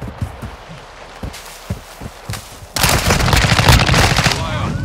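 Gunfight in Modern Warfare 2: scattered single shots and footsteps, then a loud sustained burst of automatic fire taking over for the last two seconds, with a voice faintly underneath.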